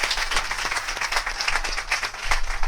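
A church congregation applauds in a dense, fairly even burst of close clapping that lasts a few seconds without pause.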